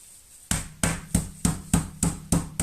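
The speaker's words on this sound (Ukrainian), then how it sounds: "Відбиваємо м'ясо." Meat pounded with a mallet inside a plastic bag to tenderize it, eight sharp evenly spaced thuds close by after a short quiet start.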